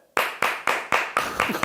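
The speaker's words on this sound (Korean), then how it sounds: "하나 둘 셋 하면은 박수 그냥 치면서 이제 딱 끝나는 거" Two hosts close a food-and-wine show at a snack and wine restaurant by clapping together: six or seven sharp, evenly spaced claps, close and loud, the last ones slightly ragged.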